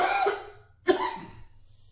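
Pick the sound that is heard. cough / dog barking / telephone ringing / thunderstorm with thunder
cough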